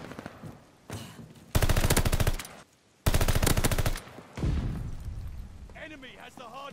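Automatic gunfire in Call of Duty Vanguard ranked play, two loud sustained bursts of rapid shots with a heavier blast after, followed by a voice speaking near the end.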